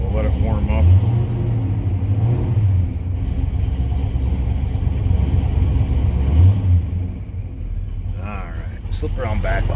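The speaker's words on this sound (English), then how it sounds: "Car's got a nice little rumble out of it." A 1969 Pontiac GTO's cammed engine idling cold while it warms up, a steady loud, close rumble with a lumpy low throb throughout, and someone talking over it.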